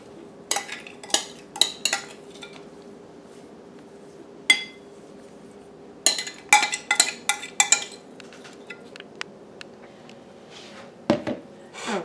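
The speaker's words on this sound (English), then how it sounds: "I'm going to put my berries in my pan." Blackberries are dropped into a pan for a keto cobbler, giving scattered light clinks and soft taps in small bursts, some clustered together, against a quiet room.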